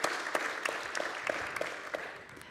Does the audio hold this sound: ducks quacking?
no